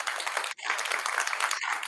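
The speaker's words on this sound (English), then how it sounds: "Could you hear clapping just now?" Dense applause and clapping from a group, loud and continuous, with a brief pause partway through before it picks up again.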